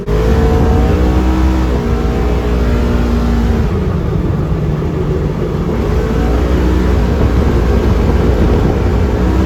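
A Polaris RZR 1000 side-by-side on 32 inch Assassinator tires drives hard, its engine roaring loud and close with rising and falling revs through the run and no talking.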